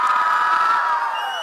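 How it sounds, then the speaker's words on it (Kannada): A crowd cheers and whistles at a film promotion event for Upendra's UI in Hubballi, with a loud burst of shrill whistles and whoops over a brief swell of voices. "ಒಬ್ಬ ಜೋರಾದ ಚಪ್ಪಾಳೆ ಮತ್ತೆ ಸುಳ್ಳು ಬರ್ಬೇಕು."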